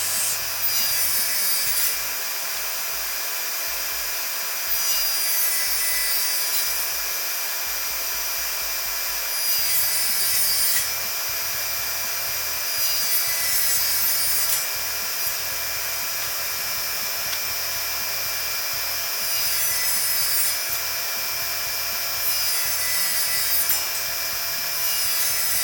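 A Milwaukee Fuel cordless 8-1/4 in. table saw makes repeated 45-degree cuts through wood, each pass a loud whining bite of several seconds, separated by the lighter spinning hum of the blade between cuts.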